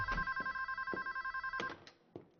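A telephone rings in a rapid electronic trill, a steady series of short pulses for about a second and a half, followed by a couple of faint clicks as it stops.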